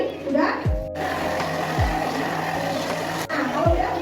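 A hand blender mixing a thick avocado-juice-like mixture whirs steadily up close at a cooking demonstration, with brief motor pitch drops and faint background voices.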